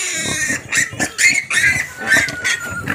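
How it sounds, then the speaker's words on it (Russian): A sow that has just farrowed grunts close by in a rapid series of short, choppy oinks and squeals. "Это уже опоросилась сама."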